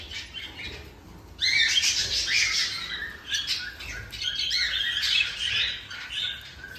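Pet budgies and cockatiels in flight cages chatter in bursts of shrill squawks and chirps, fairly close, with brief lulls between the noisy outbursts.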